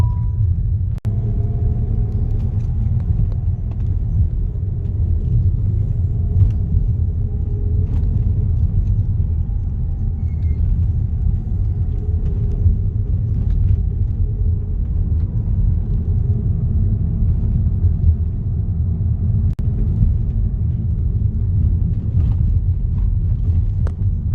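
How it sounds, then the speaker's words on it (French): Peugeot 3008 driving at night, a steady low engine and road rumble from inside the cabin, loud and continuous with faint ticks and clicks scattered over it. "J'avoue, l'accélération est pas mal."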